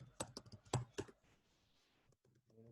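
A short burst of keystrokes on a computer keyboard while typing a Linux command, a handful of sharp close clicks followed by quieter scattered taps, with no speech.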